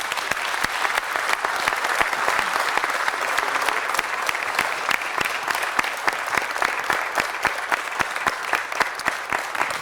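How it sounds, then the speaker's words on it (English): Warm, sustained applause from a crowd at a city council meeting welcoming Aram I, Catholicos of the Great House of Cilicia, dense loud clapping continuing steadily throughout with no talk. "Please welcome him with a warm round of applause."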